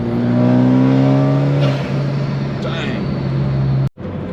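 Turbocharged drag race car engine revving at half throttle as boost builds, a loud steady droning roar that holds for a few seconds, dips, then cuts off abruptly near the end.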